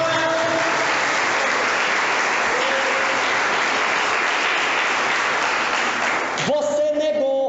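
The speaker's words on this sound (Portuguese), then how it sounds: "Dê uma salva de palmas para Jesus." A Catholic congregation applauds during a sermon, loud sustained clapping from a large crowd with voices mixed in. The applause gives way near the end to someone speaking over the fading claps.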